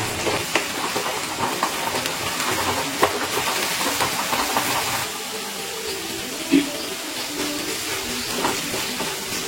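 Ginger-garlic paste frying with onion in a hot pan for chicken rezala, a steady broad sizzle and hiss with a few small pops, continuous throughout and fairly close.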